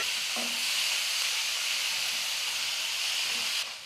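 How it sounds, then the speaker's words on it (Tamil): Onions, tomatoes, ginger and garlic sauté together in a hot pan for a kuzhambu, giving a steady, even sizzling hiss that holds for almost four seconds before it drops off abruptly near the end. "வெங்காயம் தக்காளி வந்து ஒன்றாவே சேர்த்துக்கலாம் ஏன்னா எல்லாமே சேர்ந்து தான் வதங்கி வரணும்"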